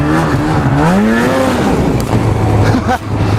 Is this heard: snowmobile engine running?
yes